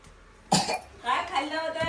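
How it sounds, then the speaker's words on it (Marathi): A person coughs once sharply at home, followed by talking that continues to the end. "खोकला कसं काय यायला तुला?"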